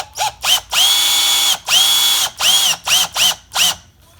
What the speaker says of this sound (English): Then I put this in a drill.